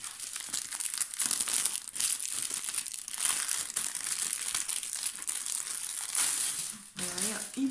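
Plastic packaging crinkles and crumples continuously while a 70 by 70 cm square-drill diamond painting canvas is unwrapped, loud and close, with a short pause near the end and brief voice sounds.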